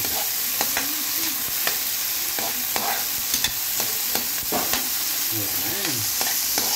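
Tomatoes sautéing in a pan for a Filipino mussel dish, a steady sizzling hiss broken by frequent scraping stirs of a spatula, close and fairly loud with a brief voice murmur.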